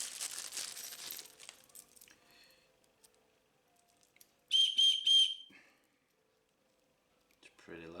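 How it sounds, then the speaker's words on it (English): A shrill survival whistle from a 12-piece survival kit blasts twice in quick succession, loud and close, after some rustling and handling noises, with quiet near the end. "We have a whistle."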